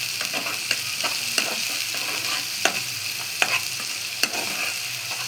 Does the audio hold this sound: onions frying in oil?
yes